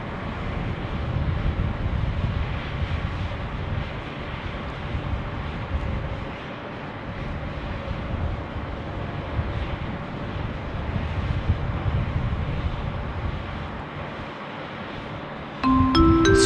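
Steady broad roar of a Qantas A380 jet taking off from Sydney Airport, a sustained rumbling wash heard from a distance with wind buffeting the microphone throughout and a few brief tones at the very end.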